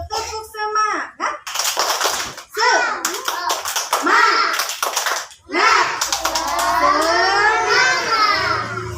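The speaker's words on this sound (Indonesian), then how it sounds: "coba kita tepuk semangat dulu" A group of children claps a rhythmic cheer in bursts of sharp, quick claps, mixed with a teacher's voice and children's voices chanting along.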